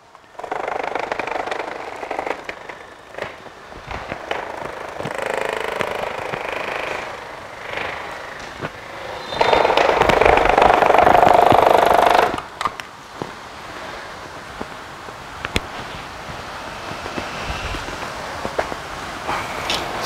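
A 20W single-phase 220V mini vibration motor switched on, giving a dense buzzing hum with a louder, steady burst for a few seconds mid-way amid clattering handling noises.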